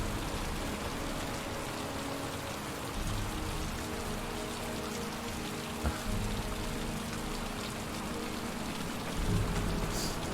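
Steady rain in the video game Heavy Rain, a continuous hiss of falling drops with low rumbling underneath, holding evenly throughout with no talking.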